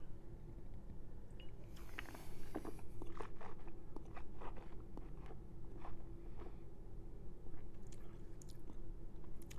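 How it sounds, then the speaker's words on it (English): Sips and slurps of Tahbilk Marsanne 2020, a dry white wine, taken during a tasting, heard as a close run of wet mouth and swallowing sounds over a low steady background hum. "So let's taste the wine, shall we?"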